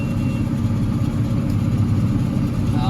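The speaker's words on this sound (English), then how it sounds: "you can tell when the tractor kind of bucks a little bit, and then the bale came out" A tractor engine runs while baling hay, giving a steady, loud, low rumble that holds an even drone throughout with no talk over it.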